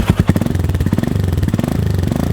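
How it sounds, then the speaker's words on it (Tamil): The exhaust of a 2021 Royal Enfield Himalayan BS6 motorcycle thumps loudly at close range in a fast, even pulse, with a few sharper pops at the start before settling into a steady beat. "இது வந்து இன்ஜின் சவுண்ட், அந்த எக்ஸாஸ்டர் சவுண்டு பார்ப்போம்."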